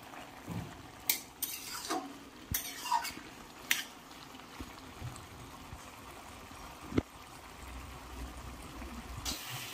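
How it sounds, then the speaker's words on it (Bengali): A spoon stirs prawn curry with bottle gourd in a pan, making scattered scrapes and clinks against the metal over a quiet simmer, sparse and irregular. "মাঝে মাঝে একটু নাড়তে হবে, নাহলে বসে যাবে।"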